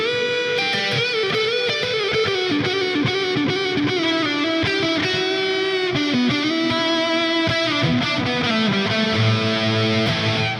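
An electric guitar plays a lead line through a distorted lead echo preset on a Fender Tone Master Pro amp modeler, with sustained notes trailing off into echo repeats.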